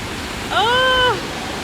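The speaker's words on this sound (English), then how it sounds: "I think I could hear the waterfall" Waterfall at Jajce, Bosnia, heard as a steady rushing wash of falling water throughout, with a brief tonal, voice-like sound rising above it midway.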